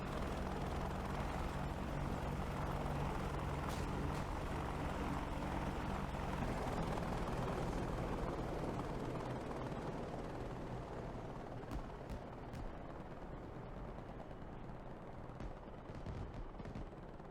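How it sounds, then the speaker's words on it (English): Helicopters under BMP-2 autocannon fire in the DCS combat simulator: a dense, steady roar of rotor and engine noise runs throughout, with sharp bursts of gunfire cracking through the din. "As expected, the BMP-2s quickly dealt with the helicopters."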